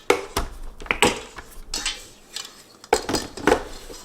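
A kitchen mixer being carried over and set down on a counter, with a string of sharp metallic clinks and clunks, close and loud, spaced irregularly over a few seconds.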